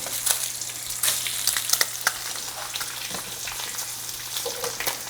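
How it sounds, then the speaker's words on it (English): Egg and bacon frying together in a pan for a breakfast sandwich, a steady close sizzle with scattered crackles and pops and no talking. "The egg's cooking nicely. Got the bacon going as well."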